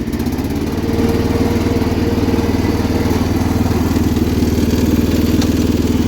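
A 1979 John Deere 216 lawn tractor engine idles steadily and loudly up close, a continuous low chugging drone with fine rapid pulsing and some mechanical clatter throughout.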